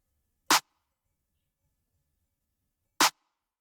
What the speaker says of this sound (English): I think it's another clap.